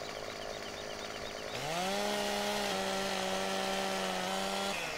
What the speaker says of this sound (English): I really do like the steel chainsaw